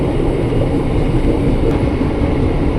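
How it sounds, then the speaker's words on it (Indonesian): An intercity train rolls past near Gambir station in Jakarta, a steady loud rumble of wheels and wagons with no breaks and no voices. "Wah, pas banget tuh ada yang kereta mau masuk Gambir."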